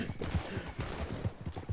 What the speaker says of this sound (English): Oh, he's shooting me. He's so mad he shot me.